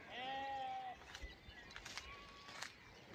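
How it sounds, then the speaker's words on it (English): A sheep bleats once up close, then fainter bleats from the flock follow in quick succession over quiet background noise. "The sheep sound like they're saying"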